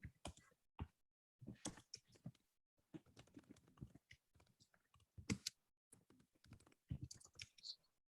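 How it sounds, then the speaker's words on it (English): Scattered keystrokes on a computer keyboard, quiet irregular clicking and tapping in short bursts with pauses between, faint and close. "I hear some typing"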